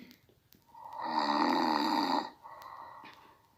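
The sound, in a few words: snoring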